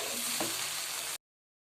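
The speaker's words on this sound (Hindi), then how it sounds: "हम दही को 2 या 3 पोर्शन में थोड़ा थोड़ा डाल के और फ्राई करेंगे।" Masala fries with yogurt in a pan for fish curry, giving a steady, close hiss that stops abruptly after about a second.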